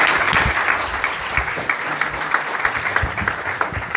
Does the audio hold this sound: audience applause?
yes